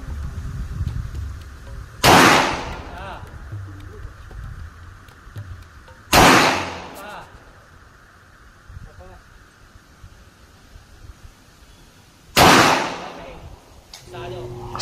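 Three gunshots ring out outdoors after a shouted firing command, each a loud sharp crack with a short decaying tail, spaced several seconds apart over background voices and rustling.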